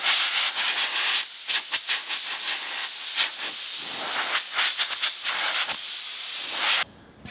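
Compressed air blasts powder coating off a piece during home powder coating, a loud steady hiss with brief pulses and gusts all the way through, close by, until it stops suddenly just before the end.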